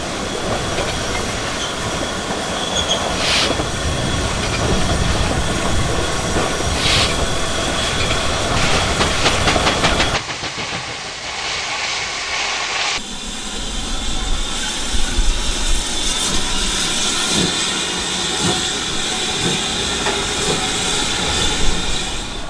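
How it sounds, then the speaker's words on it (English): Steam locomotives move around a mainline steam depot at Edge Hill, rumbling and hissing nearby, with steam and squealing wheels over a constant loud roar, briefly dipping mid-way before resuming. "Engines were moving all around me, and more arriving all the time."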